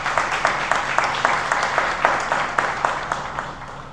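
An audience applauds ahead of an opening speech at a formal event in Haiti, with rhythmic, unified clapping in steady beats over a continuous crowd wash, fairly loud and close.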